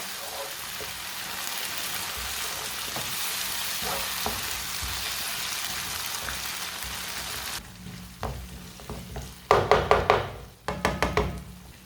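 Chicken macaroni cooking with ketchup in a pan over fairly high heat, a steady sizzle followed by several sharp knocks and scrapes of a spoon stirring against the pan near the end.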